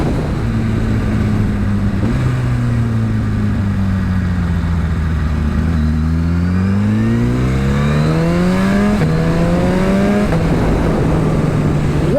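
Suzuki Hayabusa motorcycle with a 1600cc stroker engine, ridden hard: a loud, close engine note rises through the gears with sharp shifts, dips once and climbs again, sustained throughout with no voices.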